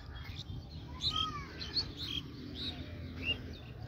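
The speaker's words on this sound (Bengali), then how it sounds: "ওরে বাবা রে, প্রচুর প্রচুর অনেক পাখি।" Many birds chirping outdoors in the morning, a scatter of faint high tweets and short calls over quiet background noise.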